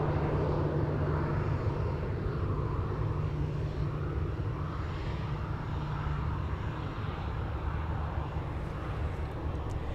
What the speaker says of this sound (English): we have a TUI 737 flying in.